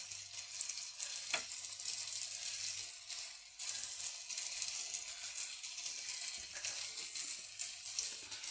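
A cutlet fries in a little oil in a nonstick pan, giving a steady close sizzle throughout with a couple of brief sharper crackles and no talking.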